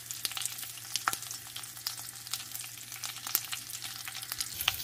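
Tempering spices splutter and crackle in hot oil, a close, quiet bed of sizzle broken by sharp irregular pops, with a low steady hum beneath and no voices.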